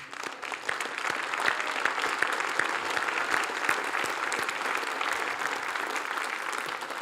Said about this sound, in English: if we give them an applause right now